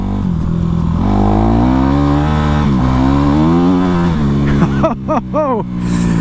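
A Honda CRF450 dirt bike engine revs loud and close, its pitch rising and falling in a steady drone, then jumping in several sharp blips near the end.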